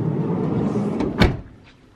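Door of a VW T6.1 California Ocean van shuts with a single close thud, followed by quiet.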